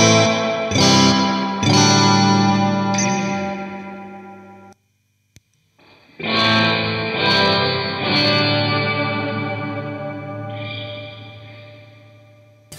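Electric guitar played through an EHX Holy Grail Nano reverb pedal set fully wet, sustained chords swelling into a long washy tail, a brief near-silent gap, then more loud ringing chords drenched in reverb.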